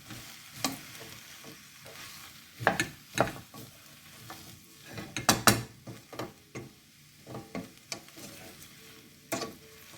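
A spoon works through a Tuscan bean stew in a pot after a pinch of salt, making close, irregular clacks and scrapes against the pot in uneven bursts over a soft simmering background.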